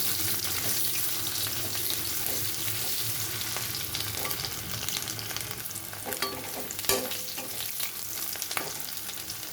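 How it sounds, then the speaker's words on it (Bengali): Boiled potatoes fry in a pan, keeping up a continuous close sizzle while a utensil stirs and scrapes against the metal in irregular knocks, with no speech. "সিদ্ধ আলুটা একটু ভেজে নিচ্ছি"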